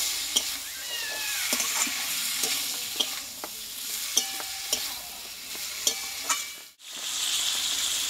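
Ash gourd (chal kumro) being sautéed with spices and green chillies in a pan, a close crackling sizzle broken by repeated scraping and stirring taps, with a brief drop near the end before the sizzle returns.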